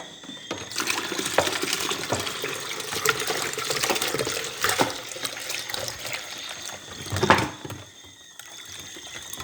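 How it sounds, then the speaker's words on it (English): Water pours steadily into a container, a continuous splashing rush that swells near the end before tapering off. "Then now I will add cold water to it."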